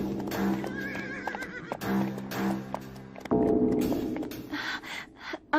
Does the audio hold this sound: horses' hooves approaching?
yes